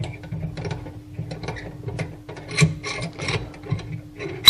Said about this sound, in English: Let's unscrew the knob that fixes the